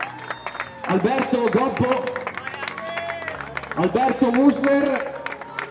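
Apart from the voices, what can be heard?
audience applause at award ceremony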